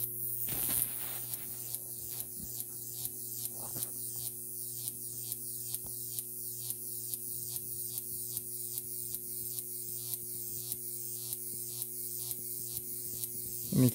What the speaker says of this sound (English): you can probably hear the hum of the transformer, and you can hear the arc as it starts and breaks and things